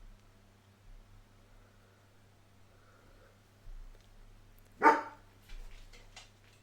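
A single sharp bark from Kiki the dog, moderately close, rising out of quiet room tone and followed by faint rustling.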